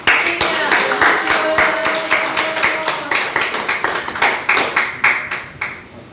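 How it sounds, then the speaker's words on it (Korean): A church prayer-meeting audience claps steadily to welcome a speaker, a dense rhythmic patter of many hands that holds for several seconds and then thins out toward the end. "나오실 때 박수로 환영하시겠습니다"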